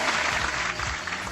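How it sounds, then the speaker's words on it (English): Audience at a drone racing event gives a brief, dense burst of clapping, close and steady before it trails off. "It's applause."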